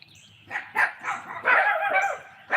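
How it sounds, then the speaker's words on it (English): Several small and big dogs bark at a white cat in a yard, a burst of sharp, loud barks and yips coming in irregular clusters close by. "all the littles and big dogs are down there telling that cat, don't come in my yard."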